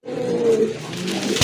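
A pair of racer pigeons gives a steady, drawn-out, low cooing drone at close range, without pause and with no talk over it.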